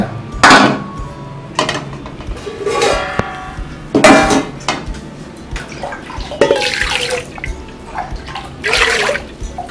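Water splashes and pours into a metal idli steamer pot in several separate bursts, about 600 ml, mixed with clanks of metal cookware, close by.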